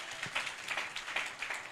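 A church congregation keeps up light, scattered clapping at a moderate distance, soft and uneven.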